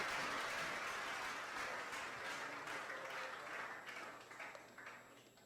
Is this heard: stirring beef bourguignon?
no